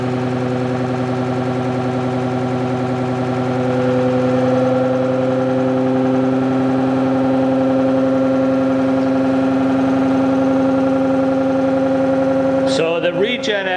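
ReGen-X EV stepper traction motor running under test: a steady electric whine with strong tonal hum and faint rhythmic vibration, rising slightly in pitch partway through before being cut off by clattering noise near the end.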